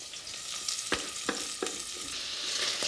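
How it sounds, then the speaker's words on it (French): Mushrooms and garlic fry gently in a pan with a soft, steady sizzle, broken by a few sharp clicks from stirring, quiet and with no talking. "nous allons laisser revenir nos champignons tranquillement"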